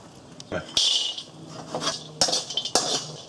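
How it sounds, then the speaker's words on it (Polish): Cashews and sesame seeds dry-roasting in a hot, smoking wok without oil, with sharp scraping clatters of a metal utensil against the pan and a steady dry rustle of the nuts and seeds being tossed. "Na początku prażymy orzechy nerkowca oraz ziarna sezamu."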